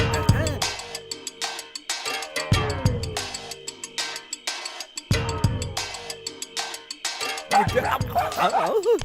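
A dog barks and yips repeatedly in short bursts within a Hindi-dubbed film scene, mixed with music and comic whimpering sounds, at moderate loudness.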